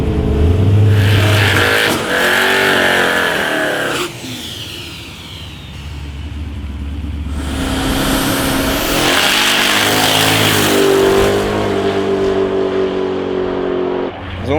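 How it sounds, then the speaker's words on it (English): A drag car powered by a 6-litre competition Ford V8 with small Aeroflow turbos and Fuel-Tech EFI roars loudly and close, revving and accelerating in long bursts with brief lulls, then pulling hard again at a street drag racing event. "It's running a 6-litre competition engines Ford V8. It's got small aeroflow turbos, Fuel-Tech EFI"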